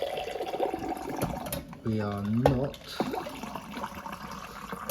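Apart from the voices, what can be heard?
pouring line-cleaning liquid through a beer engine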